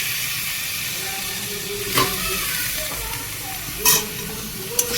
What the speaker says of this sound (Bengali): সবজিগুলো ভেজে নিয়েছি, সামান্য একটু ঘি দিয়েছি